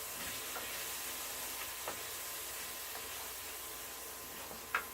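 Tofu scramble seasoned with onion powder being stirred in a hot pan, a steady soft sizzle with faint scraping strokes of the utensil and one louder scrape at the end.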